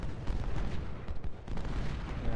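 Cannon fire from artillery batteries in the Ultimate General Civil War video game, a Gettysburg battle, heard as a dense, rumbling low barrage of distant booms at moderate level, with no talking.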